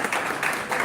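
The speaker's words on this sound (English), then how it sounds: "It's a big thunderous applause for Dr." Audience applause for a speaker at a national-level oratory contest and group discussion event, a brief continuous wash of many hands clapping at moderate volume, steady throughout with no voices on top.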